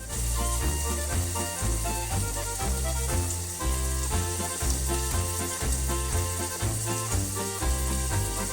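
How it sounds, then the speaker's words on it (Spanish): Onion frying in a pan for Mexican refried beans, a steady broadband sizzle running throughout under loud rhythmic background music. "mientras se fríe la cebolla"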